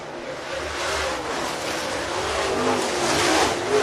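Race cars lapping at Cherokee Speedway, a dirt oval in Gaffney, South Carolina, their engines roaring and droning continuously from mid-distance, swelling and fading slightly as the pack passes, with no voices.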